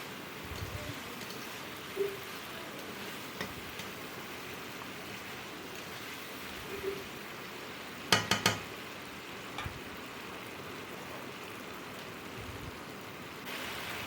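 Spice paste for boal fish curry frying in a pan, a steady close sizzle with a few soft stirring knocks and one brief clatter partway through.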